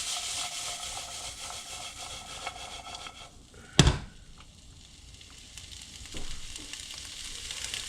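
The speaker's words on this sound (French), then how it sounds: "Donc vous partez votre cuisson, vous faites suer les légumes qu'on appelle." Cherry tomatoes, shallots and garlic sweat gently in a pan with a soft, steady sizzle, broken by one sharp knock of a utensil midway and a quieter stir toward the end.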